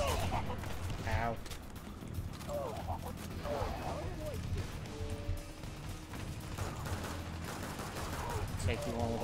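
Pistol gunfire in the Renegade X shooter game, with sharp repeated shots mixed into dense battle noise, other weapons and voices talking throughout.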